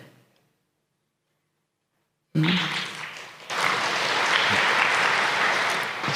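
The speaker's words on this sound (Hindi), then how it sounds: "सभी अपने लिए ताली बजा रहे हैं" An audience at a Brahma Kumaris spiritual gathering breaks into applause after a silence, the clapping swelling quickly into steady, dense, moderately loud applause that continues to the end.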